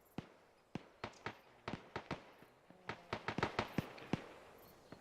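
Distant gunfire in the military video game Arma, sharp scattered shots cracking faintly from far off in irregular bursts, some in quick clusters, with no talk.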